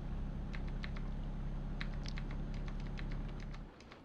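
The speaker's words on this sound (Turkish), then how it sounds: "Yağmurumuz da yağıyor" Rain in Euro Truck Simulator 2 patters as quick, irregular ticks over a steady low truck engine drone, which drops away near the end.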